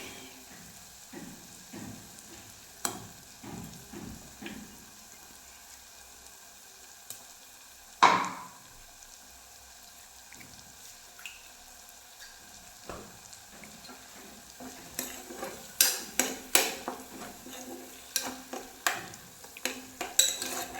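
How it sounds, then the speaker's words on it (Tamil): Mango ginger stirred and fried in a pan, with soft sizzling under repeated spoon scrapes and clinks against the metal, one sharp knock partway through, and busier clattering stirs toward the end. "இந்த பச்சை வாசனை போகிற வரைக்கும் கொஞ்சம் ஃப்ரை பண்ணி கொடுங்க"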